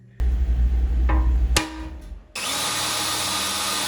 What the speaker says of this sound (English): So this is the 3/8 hole.